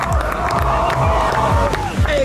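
A crowd at a women's SUP beach race finish cheers and shouts as a racer crosses the line, a loud continuous wash of voices outdoors with an announcer talking over it.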